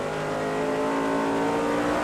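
Kyle Busch's NASCAR Cup race car at New Hampshire in 2008 roars with a loud, steady, close engine drone at high revs, heard in-car and without letting up.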